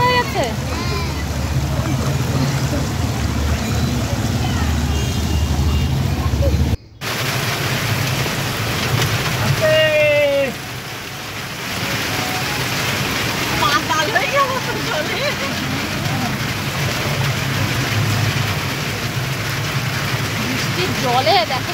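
Heavy rain pours and floodwater rushes along overflowing roadside drains near a school, a steady broadband wash that runs throughout, with a brief dropout early on and people talking over it.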